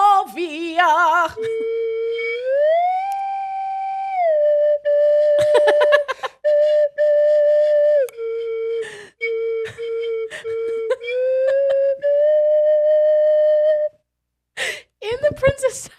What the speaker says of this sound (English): The slide whistle.